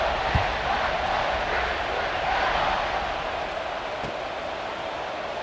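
A steady roar from a stadium crowd in the College Football 26 video game swells and holds across the clip, a continuous wash of cheering with a couple of brief thuds, no commentary over it.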